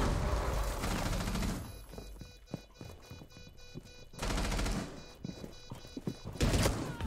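Shotgun blasts and heavy gunfire boom repeatedly in a video game, with loud dense bursts at the start and middle and scattered thumping shots between them, no talk.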